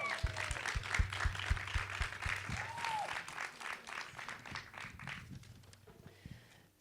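An audience at a book reading and conversation claps in a dense burst of applause that gradually thins and fades out, with a faint voice underneath.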